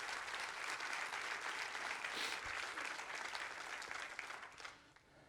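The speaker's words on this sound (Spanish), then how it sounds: "Denle un fuerte aplauso a Dios por eso." A church congregation applauds together, a steady dense wash of many hands that sounds broad and somewhat distant and fades slightly near the end, with no one talking over it.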